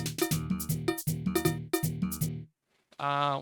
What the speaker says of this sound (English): Next one is a cowbell, typical cowbell.